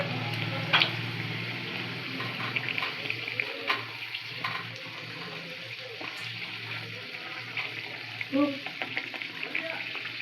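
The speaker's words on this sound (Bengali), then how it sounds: "আপনাদেরকে আরেকটা আমি ভেজে দেখাচ্ছি" Bhature dough frying in hot oil gives a steady soft sizzle with occasional louder crackles and bubbling bursts, heard fairly close under faint background sounds.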